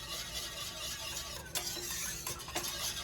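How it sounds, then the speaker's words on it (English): Whisking Greek egg lemon soup in a pot, a steady scraping, swishing stir with a few sharper clinks of the whisk against the pan, close and fairly quiet with no talk. "So whisking, there we go, just a little bit."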